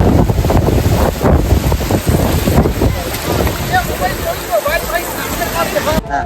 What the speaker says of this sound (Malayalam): ഇവിടുത്തെ കാറ്റ് പറയാനിരിക്കുന്നതല്ല